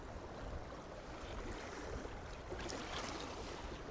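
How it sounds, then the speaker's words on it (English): Wind gusts across a Welsh trout stream in March, a steady broad rushing roar mixed with flowing water and no voices. "Oh, here comes the wind."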